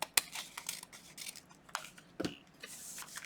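Paper being cut with scissors for a junk journal collage, a few quiet snips and soft rustles up close, with one sharper cut partway through and no talk.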